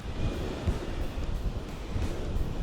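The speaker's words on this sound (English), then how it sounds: "is it windy out today" Strong wind gusts buffet the microphone in rumbling bursts, a loud, uneven roar with no talking.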